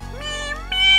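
A cat meows in the Mega Man Zero 2 video game, a short, clear, rising synthesized mew over steady game music, close and fairly loud.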